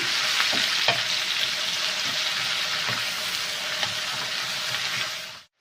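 Chopped onion hitting a very hot pan and being stirred quickly, a loud continuous sizzle with light scraping and clinks of the spoon against the pan throughout.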